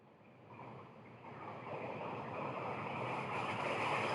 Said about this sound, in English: Right, that's brown noise.